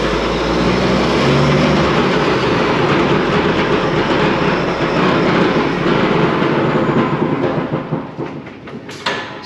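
A truck with a suspected broken drive axle and a faulty power divider gives off a loud, steady, rumbling mechanical roar with rattling and clattering. It stays constant, then eases off near the end.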